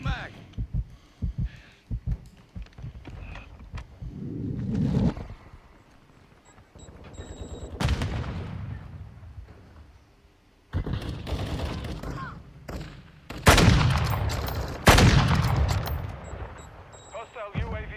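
Gunfire in Call of Duty: Modern Warfare II: loud bursts and heavy shot clusters, building into dense, booming volleys in the second half, with short gaps and callout-style voices in between.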